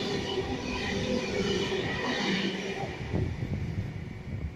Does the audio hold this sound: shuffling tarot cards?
no